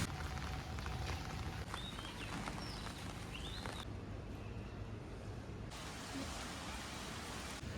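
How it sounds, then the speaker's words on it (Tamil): Rain falls in Panadura, Sri Lanka, making a steady, broadband hiss that continues throughout. A few faint, brief chirps sit under it, and there is no clear speech. "இப்போ போகணுன்னு பார்த்தா மழை பெய்யுது"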